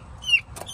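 Three-week-old chicks in a backyard flock giving a couple of faint, brief chirping clucks, close but quiet against near silence.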